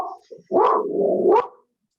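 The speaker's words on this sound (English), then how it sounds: "Somebody has a ferocious sounding dog." A dog gives a deep, ferocious-sounding bark, then a second drawn-out bark with growling, loud and fairly close, with no talk over it.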